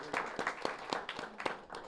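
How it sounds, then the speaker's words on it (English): An audience applauds the mayor, Linda Jeffrey, at an indoor speaker series event, a steady patter of many hands clapping at moderate distance, fairly faint and continuous throughout. "Huge round of applause for Madam Mayor Linda Jeffrey."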